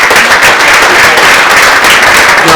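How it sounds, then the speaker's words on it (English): Loud, dense applause from a crowd at an awards evening at the BrewDog Stadium, steady clapping throughout with no voices standing out. "Big round of applause."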